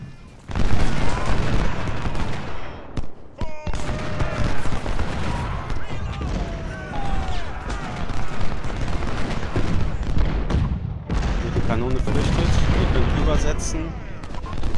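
Civil War cannons and musketry fire in the video game Ultimate General: Civil War, loud booms and crackling volleys rolling on continuously while someone speaks over the battle.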